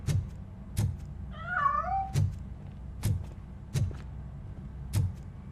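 A cat in the video game RoboCop: Rogue City gives one drawn-out meow amid a steady series of sharp metallic footsteps or thumps spaced about a second apart.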